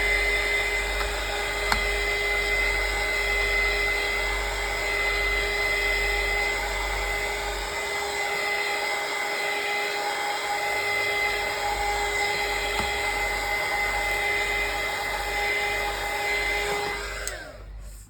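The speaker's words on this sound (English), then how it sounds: "I'm just going to do 10 seconds with the heat gun," Steady, loud whir of a heat gun drying decoupage paper, a continuous blowing hum with a high whine that holds for about seventeen seconds before cutting off abruptly at the end.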